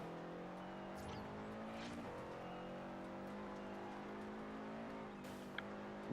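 A Subaru rally car in Forza Horizon drives with a steady, continuous engine drone and a slight rise in pitch. It stays close and even throughout, with no talking.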